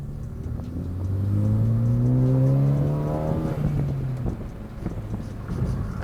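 A 2013-2018 Ford Focus ST with a Corsa Xtreme 3-inch stainless steel cat-back exhaust accelerates with the windows down, its engine note rising steadily through a gear under wind noise, then dropping to a quieter cruise.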